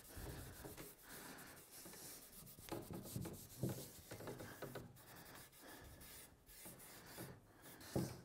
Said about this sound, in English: wax the rest of the table and those two tables